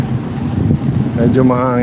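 Steady wind rushes against the microphone with a low rumble on a bridge during a street parade, while a voice speaks over it toward the end.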